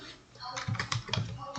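A few quick, close keystrokes on a computer keyboard tap out under soft talking.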